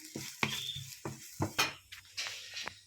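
Garlic and onion are stirred in a hot pan, a series of close scraping and clinking strokes of a utensil against the pan with a faint sizzle beneath.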